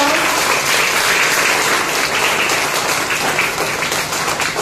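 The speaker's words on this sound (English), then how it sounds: "Please give a huge round of applause." Steady, dense applause from a large audience at a prize distribution ceremony fills the whole stretch, loud and unbroken.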